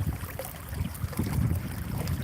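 Wind gusting across a lake during a crappie fishing outing, a steady low rumbling buffet of wind noise against the microphone with faint water movement beneath, no voices.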